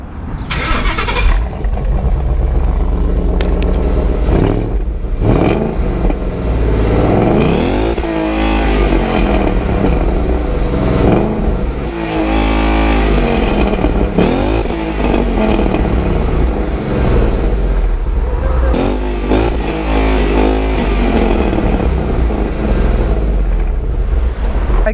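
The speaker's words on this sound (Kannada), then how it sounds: "ಈಗ ಗಾಡಿನ ಸ್ಟಾರ್ಟ್ ಮಾಡ್ತೀವಿ. ಗಾಡಿ ಸೌಂಡ್ ಕೇಳಿ ಹೆಂಗಿದೆ" A custom Mustang car engine starts and revs, loud and close, with repeated rising throttle blips and rumbling idle between them across the whole stretch.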